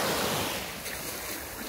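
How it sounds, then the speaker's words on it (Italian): Sea waves wash onto a soft sandy beach near San Pietro in Bevagna, a broad continuous surf hiss, loudest at the start and easing slightly, with a little wind buffeting the microphone. "guardate che bel mare"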